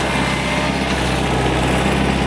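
Tractor engine running steadily under load while a hydraulic loader grapple clamps and pulls on a log hung up on a tree, a loud, constant drone with no talk.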